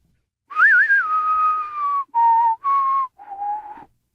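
A person whistles the theme from The Good, the Bad and the Ugly, close and clear and alone: a long opening phrase with a quick warble, then three shorter sustained notes with brief gaps between them.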